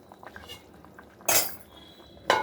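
A metal lid goes onto a pot of simmering dal bora and yam curry, giving two sharp bright clanks about a second apart over a faint kitchen background.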